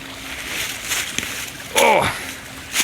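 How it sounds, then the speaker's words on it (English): A small waterfall and creek run down a wooded hillside, a steady rushing wash heard from nearby with a short vocal sound and some faint movement on top. "got another nice little waterfall here"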